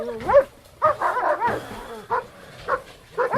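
Several dogs bark and yip in short overlapping bursts during a dog fight, loud and close, with whimpering tones between the outbursts.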